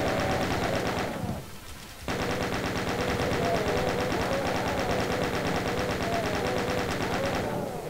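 Rapid, rhythmic gunfire from a chaingunner enemy in the video game Final Doom, a dense stream of shots with a brief pause, then resuming steadily and loud.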